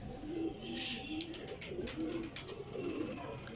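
A breeder pair of fancy pigeons coos nearby: a string of soft, low, throaty rolling calls repeating steadily, with faint background sounds.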